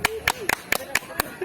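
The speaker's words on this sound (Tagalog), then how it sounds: "Palakpak na rin." A few people clap at a Christmas party, a sparse run of sharp, evenly spaced claps about four per second, close and distinct.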